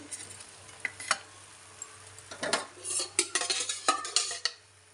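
A chapathi laid over egg in a hot pan with turmeric, chilli powder and salt, soft sizzling under scattered clinks and scrapes of a utensil against the pan, close and fairly quiet, with no talking.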